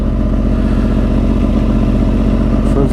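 Steady, loud engine drone of a 2010 Yamaha R1 sport motorcycle under way, a continuous low rumble with faint clatter and no voices across the whole stretch.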